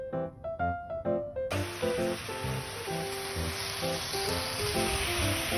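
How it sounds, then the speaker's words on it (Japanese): Bacon laid over spinach in a pan over medium heat starts to fry, a steady broadband sizzle rising abruptly after a brief tonal stretch and continuing loud and close to the end, with small pops and clatter underneath. "ほうれん草の上にベーコンを乗せて火をつけるよ。"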